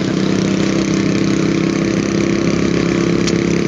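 An old custom motorcycle with a rear-mounted gear shift and foot clutch idles close by, a loud, steady low throbbing rumble throughout.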